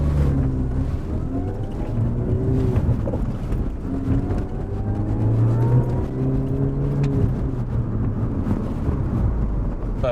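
A supercharged R53 Mini Cooper S engine drives steadily, with its pitch rising and falling as it revs through the gears. It sounds like a continuous close drone heard from inside the car, with no speech.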